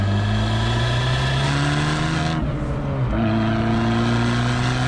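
Abarth 595 Competizione engine in sport mode pulling hard in third gear, a loud, close, rising raspy drone that climbs in pitch, dips briefly at a shift, then climbs again.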